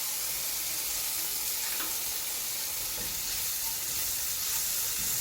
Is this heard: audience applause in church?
no